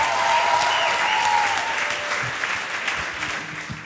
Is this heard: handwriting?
no